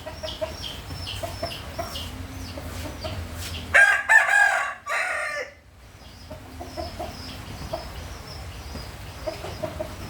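A rooster crows once, loud and close, partway through, standing out over a quieter outdoor background of faint clucks and rustle.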